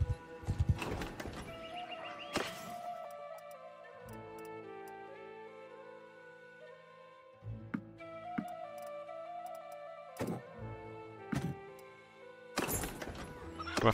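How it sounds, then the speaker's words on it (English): Horses in the video game Mount & Blade II: Bannerlord, with hooves clip-clopping and occasional whinnies set among steady tonal game music, moderately quiet throughout. "A few more horses."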